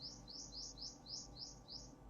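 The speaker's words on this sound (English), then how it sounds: "very noisy bird outside" A bird outdoors, heard faintly from inside, repeats a quick rising chirp about seven times in two seconds in an even, rapid rhythm over a quiet room hum.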